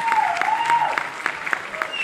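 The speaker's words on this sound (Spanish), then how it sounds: "Favor de aplausar, por favor. Aplausos más fuerte," An audience at an award ceremony in Mexico claps steadily for a couple of seconds, a close, moderately loud patter of hands, while a voice speaks over it.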